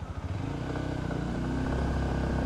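A Bajaj Pulsar 125 motorcycle (2026 model) pulls away from a standstill in fifth gear, its engine note a steady, loud low rumble that holds and builds slightly throughout.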